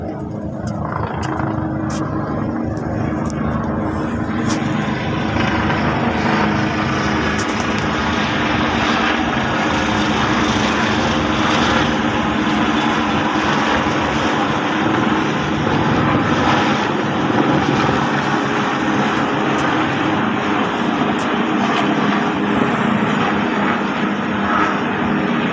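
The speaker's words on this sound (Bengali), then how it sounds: "মালয়েশিয়ার মধ্যে মহড়া চলতেছে হেলিকপ্টার" Helicopters fly in a military exercise over Malaysia, giving a loud, continuous engine drone with a throbbing rotor edge. The sound holds steady for the whole stretch, with faint scattered sounds around it.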